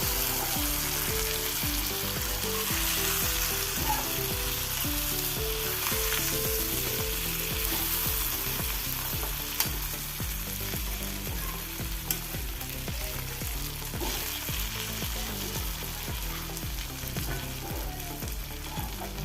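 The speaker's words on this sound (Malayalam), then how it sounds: "മീനെല്ലാം ഒരു ഭാഗം ഫ്രൈ ആയി വന്നിട്ടുണ്ട് തിരിച്ചിട്ട് കൊടുക്കാം" Sardines frying in a pan, a steady, close crackling sizzle with light bubbling and occasional soft spatters that runs continuously without any voices.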